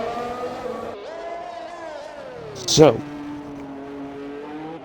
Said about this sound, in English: we'll just have to deal with the engine noise